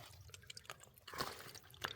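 Water from a trail spring trickles and drips over rocks and a leaf, a faint, close, irregular dribble with brief brighter splashes, no talking.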